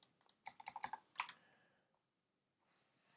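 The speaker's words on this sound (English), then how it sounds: "so let's start typing this." Keys clack on a computer keyboard during web coding, a quick burst of close, crisp taps for about a second and a half, then quiet, with faint sound returning near the end.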